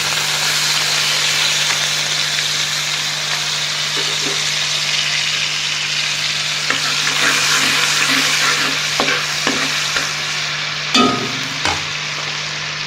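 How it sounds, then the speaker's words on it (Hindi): Garlic paste frying in hot oil in a wok gives a steady, close sizzle, and a few metal scraping and stirring clinks land toward the end. "अब इसमें हम लहसुन का पेस्ट डाल देंगे।"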